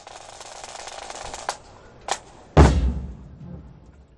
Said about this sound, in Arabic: 21 طلقة تحية